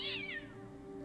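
A single cat meows in the Fran Bow video game, a clear, close, falling cry over a steady low background hum.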